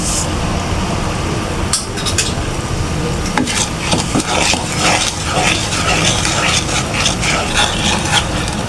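A spoon stirs sugar into milk in a pan for sweet halwa, giving steady scraping and rubbing with a soft simmering hiss and occasional knocks against the pan. No one speaks.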